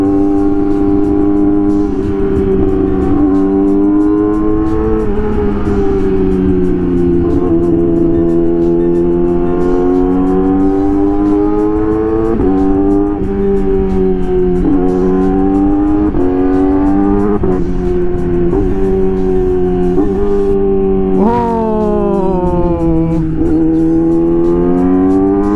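Yamaha R6 sport bike engine revving hard and steadily with an autoblipper, loud and close, pitch rising and dropping through repeated quick blips and shifts for the whole stretch, no voices.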